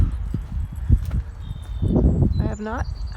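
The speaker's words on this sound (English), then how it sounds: "Horses are hungry." Hungry horses move about on a farm on a spring morning, with close, uneven hoof thuds and rustling, then a brief high nickering call near the end.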